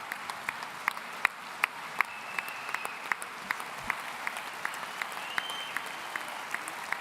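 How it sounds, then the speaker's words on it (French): A hall audience at the 53rd CGT union congress claps in a steady, distant round of applause, with sharp individual claps popping out of the even patter. "je pense qu'on peut l'applaudir à nouveau et témoigner toute notre solidarité"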